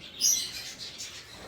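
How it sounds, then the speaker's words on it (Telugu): High, bright chirps of African lovebirds over a steady chattering background, busy and continuous, with one sharper tweet standing out near the start. "అండ్ ఇవి ఆఫ్రికన్ లవ్ బర్డ్స్ అనుకుంటాం"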